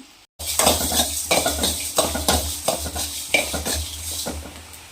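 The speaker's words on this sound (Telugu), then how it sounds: "ఈ కలర్ వచ్చే వరకు ఫ్రై చేసుకుంటే సరిపోతుంది" Fennel seeds frying in a pan for chicken pickle are stirred with a metal utensil, making rhythmic, close scraping strokes and clinks against the pan over a light sizzle.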